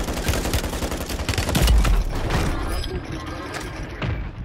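Heavy Call of Duty gunfire from a sniper fight, a dense run of loud, close shots and booming impacts filling the whole stretch, with a voice talking underneath.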